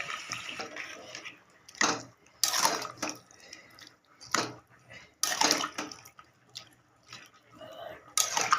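Water is poured into a cooking pan of potol chingri, pointed gourd with shrimp, in several short splashing bursts separated by quieter pauses, close by.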